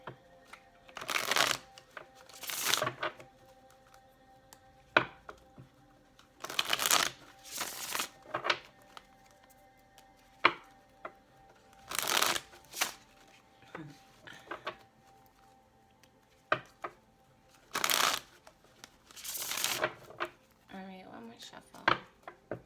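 Tarot cards are shuffled in repeated bursts, each a quick papery riffle of a few seconds, coming in pairs separated by quiet pauses, close and crisp.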